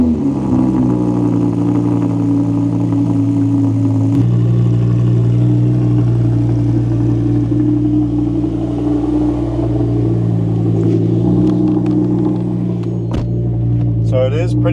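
A car engine idles loudly and steadily after a cold start, a deep constant drone with a faint pitch shift partway through and a few clicks and rattles near the end.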